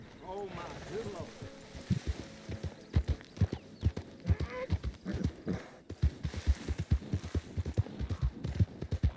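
Horse hooves clip-clop in a steady, rapid gallop across the ground in Red Dead Redemption 2, loud and close, with a brief whinny near the start and a voice talking over it.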